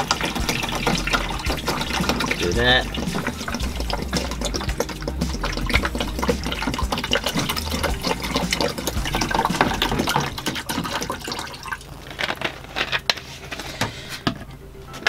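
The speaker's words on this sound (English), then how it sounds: "I'm going to put a litre of water in here just to show you how it all works." About a litre of water is poured into the 8-litre tank of an Arlec evaporative cooler in a retro Viscount caravan, a continuous gushing, splashing fill with a brief spoken remark, easing toward the end.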